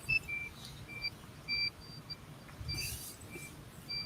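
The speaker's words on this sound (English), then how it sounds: "It's a steady beep." Repeated short electronic beeps from a drone's ESC after calibration on a new FPV quad being set up in Betaflight, high-pitched tones sounding several times at an even pace over a quiet background hum.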